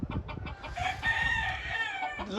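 A gamefowl rooster with dark legs crows once, a long wavering call rising and holding before trailing off, close and loud with some clucking at the start.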